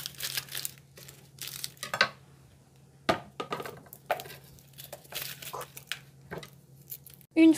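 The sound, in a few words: peeling a shallot by hand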